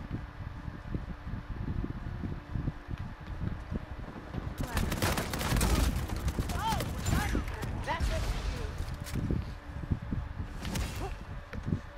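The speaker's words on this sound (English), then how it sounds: "I'm getting sniped" Sniper gunfire in Uncharted 4 multiplayer, sharp cracking shots amid bursts of game combat noise with a loud flurry in the middle, while a person talks over it.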